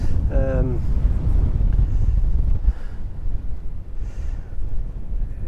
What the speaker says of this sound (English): if this wind keeps up, we should be fine